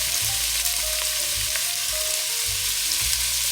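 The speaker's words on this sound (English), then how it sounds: "we're going to let that saute for 4 minutes" Celery, carrots and onion sauté in olive oil over medium heat, giving a steady, close sizzle with faint stirring and scraping, and no one speaks.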